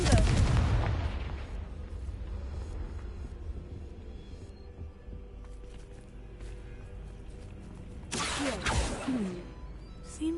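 A Confringo spell explosion in the video game Hogwarts Legacy, a loud booming blast at the start that fades into a rumbling tail, followed by a second burst near the end.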